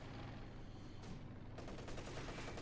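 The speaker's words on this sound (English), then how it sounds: "And there he goes straight into another machine gun." Rapid machine gun bursts from a Company of Heroes 2 battle between German OKW and Soviet forces, dense and continuous, joined by other crackling gunfire with no talk over it.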